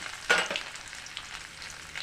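Garlic cloves hitting hot oil with cumin seeds and bay leaves, a sharp burst of sizzling that settles into a steady, crackling fry.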